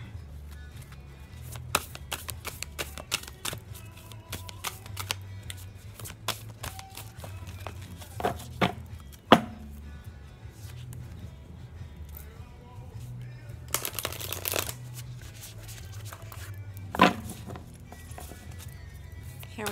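Moonology oracle card decks are shuffled by hand in a quiet room, with scattered flicks and riffles, soft papery slaps and a few louder bursts of rapid card riffling, close and intermittent over a low background hum.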